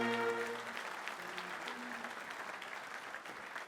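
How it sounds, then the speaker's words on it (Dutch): An audience applauds at the Knoevelemint carnival evening in the Gouvernement in Maastricht. Steady, dense clapping fills the room and slowly eases in level, with a brief voice trailing off at the very start. "En als jullie nou toch aan het klappen bent"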